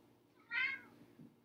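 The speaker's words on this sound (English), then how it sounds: "If you can hear my cat, he's yelling." A pet cat lets out a single loud, drawn-out meow in a quiet kitchen, followed by a faint low murmur.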